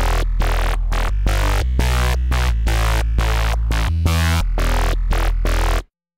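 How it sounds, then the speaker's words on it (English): A dry, buzzy drum and bass synth bass from the Vital synth, with no effects, plays a rhythmic run of short, punchy notes with brief gaps, then cuts off abruptly near the end. "without any effects on either Vital itself or on the mixer, the bass sound sounds like this."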